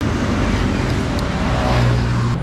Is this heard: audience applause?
no